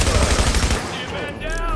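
Rapid automatic gunfire in the video game Tom Clancy's The Division, a loud burst of sustained shots that cuts off midway, followed by lighter game noise with a voice speaking over it.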